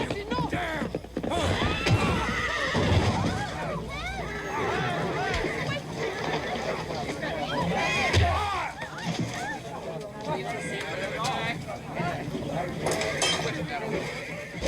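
In a film scene, a horse gallops and whinnies amid busy action: steady hoofbeats, repeated shrill neighs, clinking tack, and shouted voices over a full, loud mix throughout.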